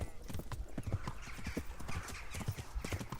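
Horse hooves clip-clop steadily in the medieval video game Kingdom Come Deliverance, a brisk repeating rhythm of hoof strikes, close and moderately loud, with no talking over it.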